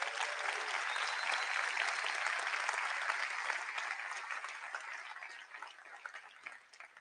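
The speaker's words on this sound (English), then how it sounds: "Let's take one more moment to applaud the entire Databricks company" A large keynote audience at the Data+AI Summit applauds in a dense, sustained wash of clapping that gradually thins and fades toward the end.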